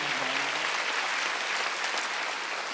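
A church congregation at a Wednesday worship service claps together in a steady, dense wash of applause that runs unbroken and fairly loud from start to finish, with no voices standing out.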